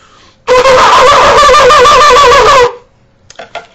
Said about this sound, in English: with the Ashkenazic shofar, it sounds like this